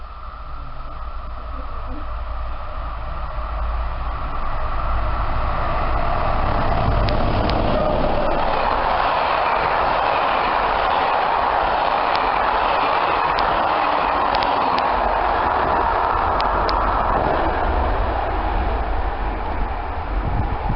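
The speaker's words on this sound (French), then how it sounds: "Mesdames, messieurs, voie B, attention au passage d'un train." A train passing through a French railway station platform, a loud sustained rumble and rushing roar that builds and holds steady for about twenty seconds, with faint squeals on top.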